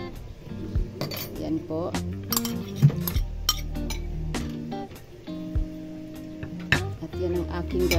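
Canned tuna broth stirred into a pan of napa cabbage, with clinking utensil and pan sounds over cooking noise while someone speaks briefly.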